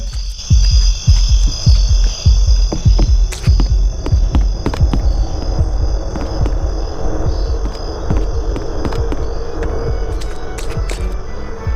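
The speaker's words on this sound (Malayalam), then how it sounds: "ഹാർട്ട് ബീറ്റ് കേൾക്കുന്നുണ്ട്" A heavy, booming heartbeat from a Pennywise horror video game, with a strong regular thump at first that blurs into a loud, throbbing hum backed by a high whine. No one speaks.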